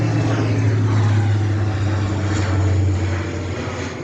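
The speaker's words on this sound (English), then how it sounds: "I have a plane coming through." A large military transport plane passes low near an Air Force base, a loud, steady droning propeller roar that holds throughout and eases off slightly toward the end, heard outdoors by a garden.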